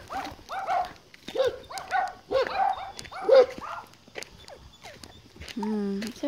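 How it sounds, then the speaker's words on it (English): A dog barks repeatedly in quick, uneven bursts close by, followed by a person speaking briefly. "She's always afraid of dogs that barks."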